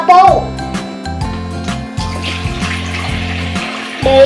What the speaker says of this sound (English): Put water in a bowl.